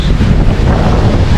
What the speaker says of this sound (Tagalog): masama ang hangin at alon